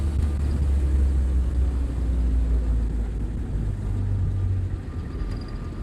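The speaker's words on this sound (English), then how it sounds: "That gentle whine, you can hear the radiator fan spinning round and it makes a particular buzzing" A Willys Jeep on the move, its steady low engine drone joined by the gentle whine and buzz of the spinning radiator fan, continuous and fairly loud throughout with no talking.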